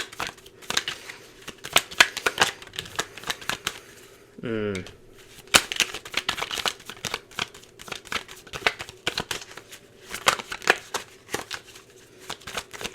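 Tarot cards are shuffled in a rapid series of crisp riffling snaps and flutters, with a short whirring bridge in the middle, while a voice talks intermittently nearby.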